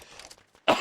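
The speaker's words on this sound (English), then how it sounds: "coughing." A single short cough bursts out close to the mic at the end, after a moment of faint low rustling.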